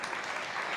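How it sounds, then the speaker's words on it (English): Audience applause for a panel at a Saudi cultural salon, a dense steady wash of clapping filling the whole short moment with no voices. "Please, let's give them a round of applause"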